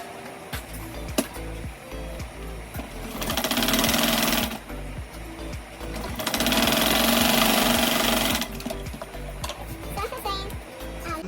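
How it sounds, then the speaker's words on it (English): Sewing machine stitching Ankara fabric shorts, its motor whirring in two sustained bursts of a few seconds each, with quieter clicks and handling noises between the runs. "Then after I cut it out, then I will now sew."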